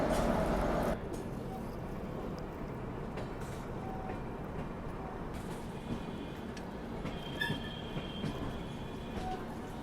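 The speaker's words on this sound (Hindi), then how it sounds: "और इस साइड किसी ट्रेन का तो डिपार्चर हुआ है, पता नहीं कौन सी ट्रेन है ये, पर कोई नॉर्मल एक्सप्रेस ट्रेन लग रही है।" An express train pulls away from a station platform in India, a broad continuous rumble of wheels and carriages with faint squeals and scattered crowd noise around it.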